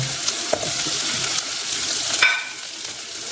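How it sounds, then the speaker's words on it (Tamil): Ginger paste fries in hot oil for a beef curry, giving a loud, dense sizzle with stirring scrapes that eases off slightly toward the end. "இஞ்சி பேஸ்ட்டை இதோட நாங்கள் சேர்த்துக்கிடுவோம் நல்லா கோல்டன் ப்ரௌனுக்கு தாளிச்சு"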